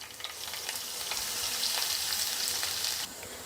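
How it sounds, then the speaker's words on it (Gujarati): Mustard seeds, cumin and coarsely crushed garlic crackle and sizzle steadily in hot oil, a loud, continuous close frying hiss with sharp popping bursts, dropping slightly at the end. "તેલ ગરમ થતાં અડધી ચમચી રાઈ જીરું ઉમેરશું અને એની સાથે જ 8 થી 10 કળી લસણ અધકચરી ક્રશ કરીને લીધેલી છે એ ઉમેરી દેશું"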